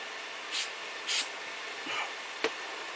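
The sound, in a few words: spraying activator onto quick drying gel glue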